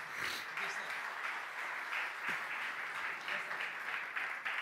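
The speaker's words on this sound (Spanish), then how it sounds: "yo quiero que le den un fuerte aplauso en señal de bienvenida a Steve" A church congregation applauds to welcome a visiting preacher named Steve, with moderate, somewhat distant clapping that rises and dips in soft waves across several seconds in a reverberant hall.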